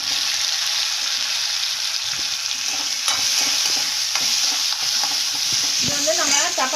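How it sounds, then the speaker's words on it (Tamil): Onion, mustard seeds, cumin and curry leaves fry in hot oil with a steady, loud sizzle, broken by scattered pops and crackles and a few scrapes of stirring, with no talking. "எண்ணெய் ஊற்றிக்கலாம் கொஞ்சமாக கடுகு போட்டுக்கலாம் கொஞ்சமாக ஜீரகம் போட்டுக்கலாம் கருவேப்பிலையும் போட்டுக்கலாம் ஒரு வெங்காயம் போட்டுக்கலாம்"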